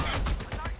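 Gunfire in the video game Army of Two: a quick burst of several close, loud shots fired in rapid succession, with voices mixed in underneath.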